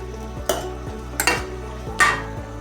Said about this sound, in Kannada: ಹಾಕಿ ಚೆನ್ನಾಗಿ ಅದು ಬೇಯುವ ತನಕ ಹುರಿದುಕೊಳ್ಳಬೇಕು.